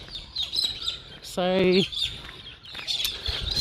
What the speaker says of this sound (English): The birds are very chirpy.